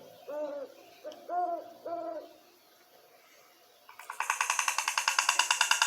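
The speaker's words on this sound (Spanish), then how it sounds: "Este es el búho." Great horned owl hooting, three deep, clear hoot phrases in quick succession, then a louder rapid series of pulsed calls takes over near the end.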